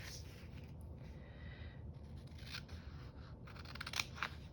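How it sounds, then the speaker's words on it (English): Scissors snip through small pieces of paper for a sticker book and washi collage board, with a steady close crunching texture and a few sharper snips near the end, with no one speaking. "We're just gonna cut bits."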